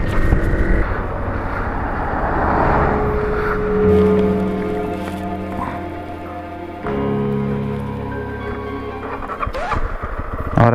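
A Zontes T310 motorcycle idles and revs unevenly out in the Atacama Desert, with something wrong with the bike; the steady close engine drone shifts in pitch under faint wind noise.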